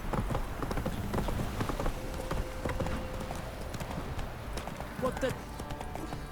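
Roach, Geralt's horse in The Witcher 3, gallops with rapid, steady clip-clopping hooves beneath game ambience, while someone briefly speaks over it.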